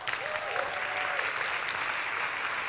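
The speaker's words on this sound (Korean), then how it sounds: "박수 안 주시나요?" Audience applause at a 2017 ING MDRT Day insurance seminar, a steady wash of clapping from a crowded hall sustained for a few seconds, with a faint tonal whistle early on.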